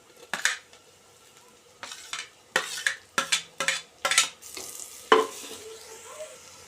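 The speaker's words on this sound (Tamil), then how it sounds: "இப்போ நம்ம கட் பண்ணி வச்சுருந்த தக்காளி போட்டு" Chopped tomatoes tipped into a hot pan for a Tamil vatha kuzhambu, then stirred with a metal spoon: clattering scrapes and knocks in uneven bursts over a light sizzle, close and fairly loud, without talk.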